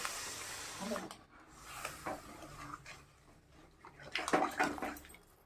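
Water splashes and hisses into a hot pan of frying vegetables and potatoes in uneven bursts over several seconds, with a stronger rush near the end.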